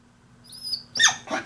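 A dog whines in thin, high-pitched cries that rise gradually and then turn into two louder, sharper whimpers, close by with no talking.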